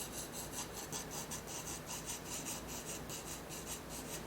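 Steady, soft rasping of a pencil rubbing back and forth on paper in quick, even strokes, close and quiet.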